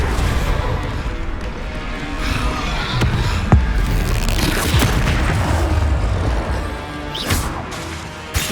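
Spellcasting in Hogwarts Legacy, including the Confringo blasting spell, heard as booming blasts and crashing impacts with sharp cracks scattered over a loud, busy combat backdrop.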